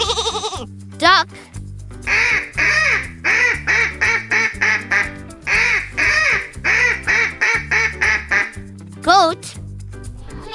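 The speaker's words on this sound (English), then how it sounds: "Duck." A farmyard duck quacks in quick repeated bursts, two rapid runs of loud, close calls riding over cheerful nursery music, framed by brief sung phrases at the start and end.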